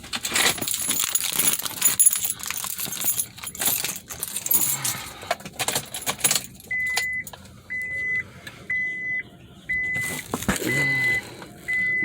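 Car keys jangle and clink in bursts close by inside an Acura TL, followed by a steady electronic chime repeating at regular intervals in the cabin.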